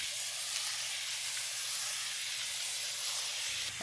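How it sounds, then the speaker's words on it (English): Steady broadband hiss of water spraying from a hose, continuous and fairly loud throughout, with a faint low hum underneath. "we get the hose and spray it down"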